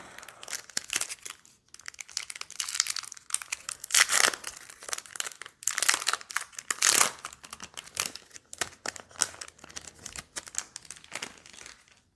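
Plastic wrapper of a Lorcana trading card booster pack crinkling and tearing open, sharp irregular bursts of crackle with brief pauses, close and fairly loud, no talking.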